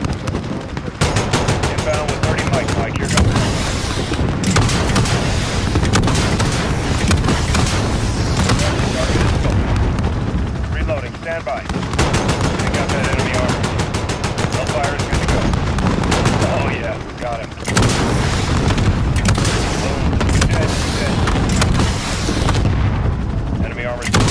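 Air strike in Call of Duty: Modern Warfare 2, with dense, continuous machine-gun fire and heavy explosions roaring loudly throughout, easing briefly twice before resuming.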